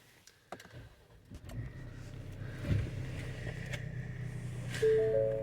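A button click, then the engine of a 2023 Ford Explorer Platinum cranks from push-button start and settles into a low steady idle, with a faint electronic chime near the end.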